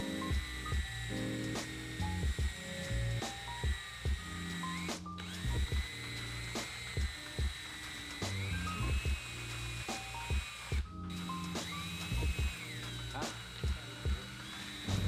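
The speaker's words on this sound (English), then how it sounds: "Then we're gonna agitate all the brushes with the drill gun." Cordless drill gun driving scrub brushes against foam polishing pads soaked in dish soap or all-purpose cleaner, a whirring motor in repeated bursts with short pauses, close and loud.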